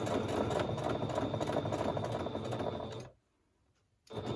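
A sewing machine runs a straight stitch across a fabric tag in a steady, close, continuous mechanical whir for about three seconds, then stops for nearly a second before briefly starting up again.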